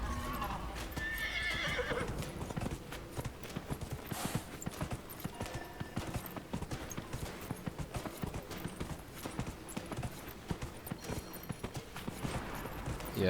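Horse hooves clip-clop steadily during riding in the game Dragon Age: Inquisition, with whinnies and neighs mixed into a busy, continuous soundscape of music and effects.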